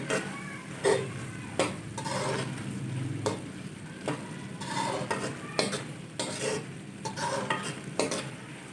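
Lauki barfi made from grated bottle gourd without mawa, stirred with chopped pistachios and almonds in a pan: a run of quick scraping and clinking strokes over a faint sizzle.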